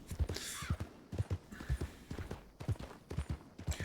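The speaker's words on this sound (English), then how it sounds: "Listen to your horse when he's calling for you." In the video game Red Dead Redemption 2, steady clip-clop of hooves plodding along, with a horse giving a short nervous whinny partway through; close and fairly clear.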